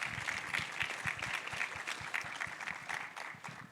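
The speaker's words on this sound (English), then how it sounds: "Clap for that, please." Audience applause at a community panel on youth trades, finance and community protection: a steady round of many hands clapping, moderately loud and sustained for several seconds, with no talking over it.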